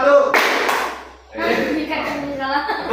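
A class claps hands together in a counted classroom rhythm, a loud burst of claps followed by a pause, with a teacher's voice speaking over and between them.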